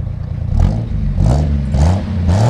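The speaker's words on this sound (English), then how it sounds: "go ahead and rev it up a little bit" A 1964 Ford F100 Custom Cab engine revs in repeated bursts, rising and falling about three times over a steady idle rumble, close and loud with no talk.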